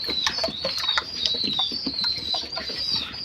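Pigeons being taken out of a metal tin at a home bird loft on a summer day, with a busy mix of close soft cooing, clucking calls and brief bursts of wing flapping, no talk.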